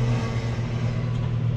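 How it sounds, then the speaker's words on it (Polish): A John Deere 6120M tractor with a four-cylinder, 120-horsepower engine runs in a field, giving a close, steady, low rumbling drone over the short stretch. "ciągnik 120 koni, czterocylindrowy"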